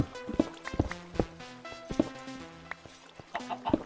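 Minecraft chicken clucking in short, repeated bursts amid footsteps and other game noises, fairly quiet and close, with brief pauses between clucks.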